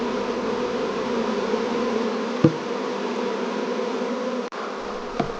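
A colony of honey bees fanning their wings over the comb makes a dense, steady buzzing hum, close and continuous, broken only by a couple of brief clicks.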